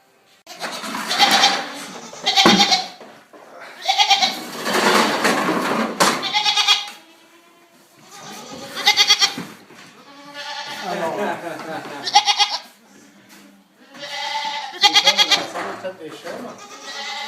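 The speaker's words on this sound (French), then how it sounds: "Des chèvres." Goats on a farm bleat repeatedly in loud, wavering calls that overlap one another, with a person talking intermittently among them.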